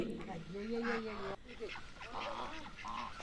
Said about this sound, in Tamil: வாத்து வெயிட்டிங்கில் இருக்குது அடுத்தது நமக்கு எப்போ சாப்பாடு போடுவாங்கன்ட்டு அந்த பக்கெட் பக்கத்துலேயே நிற்கிது